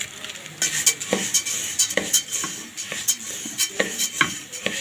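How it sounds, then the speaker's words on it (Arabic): Fried orzo pasta with cinnamon being stirred in a pot, a series of close, light scraping and clinking spoon strokes against the pot in an irregular rhythm, with no talking. "اقلب بقى القرفه في اللسان كده كويس جدا"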